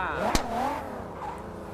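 A taxi car in the video game Car Parking drives with a steady, droning engine hum whose pitch rises and falls, broken by one sharp click, while a voice speaks over it.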